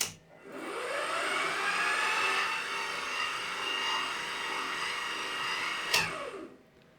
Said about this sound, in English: So if I now press spindle on,